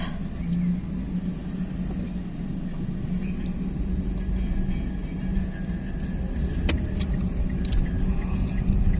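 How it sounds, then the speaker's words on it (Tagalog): Road traffic on a highway between Pampanga and Tarlac in the Philippines: a steady low rumble of passing vehicles with people talking nearby. "Traffic."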